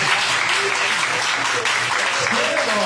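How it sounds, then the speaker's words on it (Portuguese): Church congregation claps hands in unison during a sermon, a loud, continuous stream of clapping with voices mixed in. "Bate palmas e glória a Jesus"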